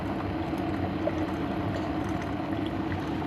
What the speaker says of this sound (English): Well, we got some boiling water.